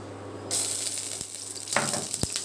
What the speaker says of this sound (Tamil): இது கடுகு வந்து நல்லா பொரிச்சு எடுத்துட்டு